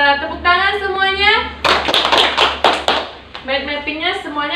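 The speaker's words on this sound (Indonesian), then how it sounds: "Tepuk tangan semuanya." Students in a classroom break into a short burst of applause, lasting just over a second, with a teacher talking before and after it.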